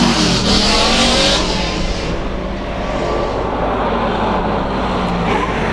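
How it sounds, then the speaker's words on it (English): Anthony Day's Saleen Mustang climbs a hillclimb course at the Legend of the Lakes event with a loud continuous engine roar that eases slightly after the first seconds, heard alone without talk. "the mighty Saline Mustang of Anthony Day making his way up the hill"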